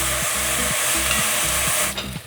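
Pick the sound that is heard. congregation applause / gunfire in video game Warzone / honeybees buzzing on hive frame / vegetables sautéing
vegetables sautéing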